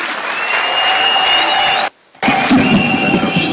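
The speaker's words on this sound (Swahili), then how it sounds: "tumkaribishe na makofi tafadhali" Crowd at a political rally in Etago Green Stadium, South Mugirango, Kisii County, applauding and cheering to welcome Prime Cabinet Secretary Musalia Mudavadi, loud and sustained, broken by a brief dropout, with a whistle-like tone over the noise.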